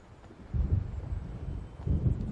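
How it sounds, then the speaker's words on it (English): Thunder from an approaching storm in the video game Alan Wake Remastered: two deep, muffled low rumbles roll in over a soft windy background, the second swelling near the end. "It seems there's a storm coming."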